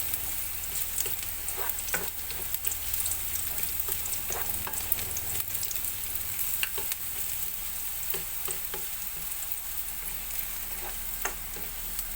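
Dried anchovies fry in a pan with a dense, continuous sizzle and scattered sharp crackles and pops, close and constant throughout.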